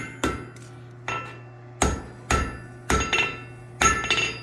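A blacksmith's hammer strikes hot metal while forging a lizard's leg from a block, six or seven sharp ringing blows spaced irregularly, loud and close, each ending in a short metallic decay.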